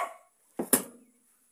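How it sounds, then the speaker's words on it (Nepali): A dog near a lake gives two quick sharp barks close together, moderately loud against otherwise quiet surroundings, with a faint voice fading just before. "भुकिरहेको"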